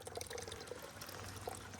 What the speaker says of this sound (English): It's good to see that water running.